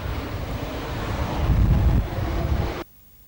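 Strong gusty wind blows over Lake Macquarie at up to 100 kilometres an hour, buffeting loudly in a rushing roar that swells midway, then cuts off abruptly near the end.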